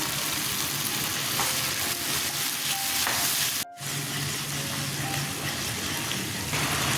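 Turmeric, cumin and coriander powders sizzle steadily in hot oil as a spice masala fries, with a constant close crackle and faint scraping of stirring. A brief dropout cuts in just before the middle, and no one speaks.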